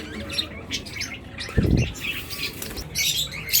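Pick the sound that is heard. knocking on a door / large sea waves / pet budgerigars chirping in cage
pet budgerigars chirping in cage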